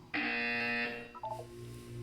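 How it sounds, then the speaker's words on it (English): A buzzer in the video game Portal 2, a loud sustained electronic buzz lasting under a second, then a brief descending run of tones and a low steady hum. "When you hear the buzzer, look down at the floor."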